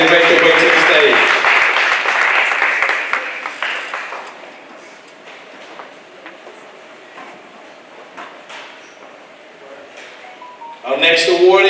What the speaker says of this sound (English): Let's give them a round of applause as they make their way to the stage.